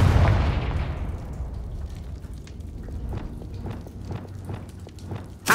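A Confringo fire spell detonates in Hogwarts Legacy, a loud booming blast at the start that rolls off into a long fading rumble, followed by scattered crackling bursts and a sharp new hit at the very end.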